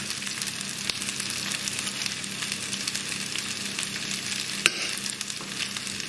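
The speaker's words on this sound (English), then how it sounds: "Keep mixing." Onions and peppers with salt sizzling in a frying pan while being stirred, steady frying hiss with scraping stir sounds and a sharp clack near the end, no talk.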